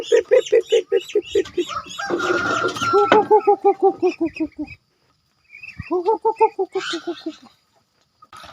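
Chickens cluck in rapid, repeated bursts close by, with a brief pause midway before the clucking resumes; a rougher squawk overlaps the early part.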